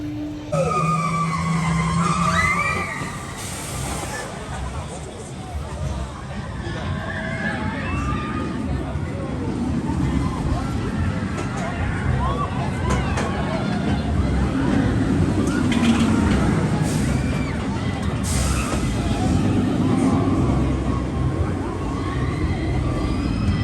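Swarm roller coaster ride at Thorpe Park, a loud continuous roar of wheels on track and rushing wind with screaming riders and voices throughout, intense from start to finish.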